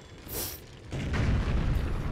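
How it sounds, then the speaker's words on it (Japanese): A boom goes off in Super Mario Galaxy during a boss fight, a short muffled blast followed by a sustained low rumble lasting about a second and a half. "爆発。"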